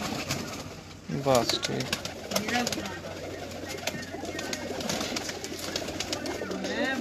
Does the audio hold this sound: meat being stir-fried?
no